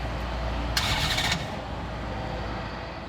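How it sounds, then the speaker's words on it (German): A Koenigsegg hypercar with a 1600-horsepower engine, parked inside a cargo plane hold at Frankfurt Airport, makes a second start attempt: a brief sharp cranking burst over a steady low mechanical hum, then the drone continues. "Start des Hypercars, zweiter Versuch."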